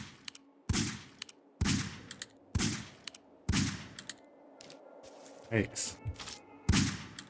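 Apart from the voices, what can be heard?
SVD rifle gunfire in a video game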